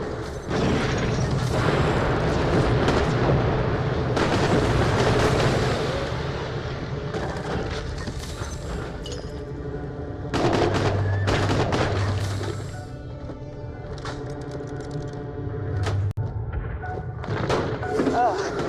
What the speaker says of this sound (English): Almost zero juice running through this place, and the old turrets still work.